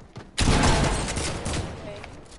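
Loud burst of rapid video game gunfire cuts in abruptly and keeps rattling densely, then tails off slightly toward the end.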